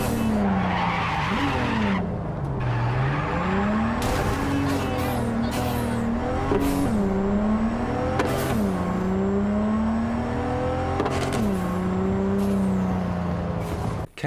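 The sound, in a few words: car driving in video game Cyberpunk 2077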